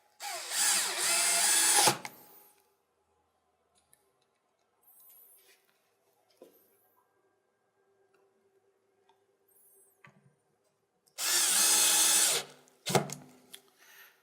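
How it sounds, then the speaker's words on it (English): Power drill driving two screws into a VertDesk v3 standing desk frame, two loud whirring bursts of about two seconds each, separated by a long quiet stretch with faint clicks and handling sounds. "we can go ahead and put the 2 screws in"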